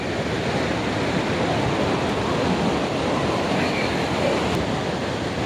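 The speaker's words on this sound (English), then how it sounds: "the water is actually rushing across the barrier" Storm floodwater rushing over a washed-out safety barrier at a waterfall in a botanical garden, a continuous loud roaring torrent with no pauses.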